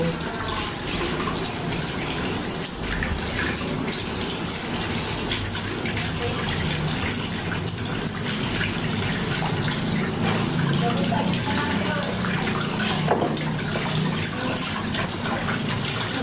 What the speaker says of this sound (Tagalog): Hugasan muna natin yung gabi bago banatan.